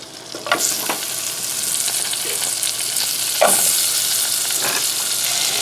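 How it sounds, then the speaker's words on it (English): Onions fry in melted butter in a pan, sizzling steadily and close, with occasional scrapes and clicks as they are stirred. "I've got some butter melting into a pan here, and what I've got here are some onions, and I'm going to be cooking them in the butter."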